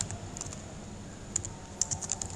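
Soft, sparse keyboard clicks from typing on a computer keyboard, a few quick keystrokes in small clusters, close but faint over quiet room hum.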